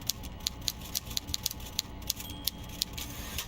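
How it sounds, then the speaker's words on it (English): Typewriter keys clack in a video game, a quick irregular run of crisp taps over a low, steady background hum. "Back to happy typewriter noises."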